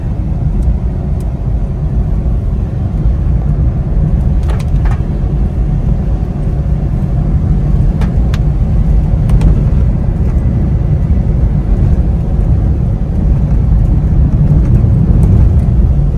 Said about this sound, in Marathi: इथे वाहन जरा जातायत